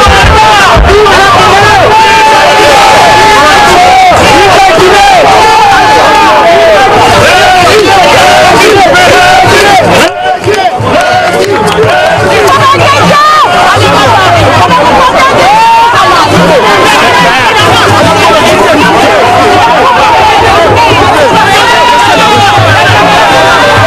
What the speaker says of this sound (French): Une communauté guinéenne vivant à Washington, fortement mobilisée, qui réserve un accueil chaleureux au président de la République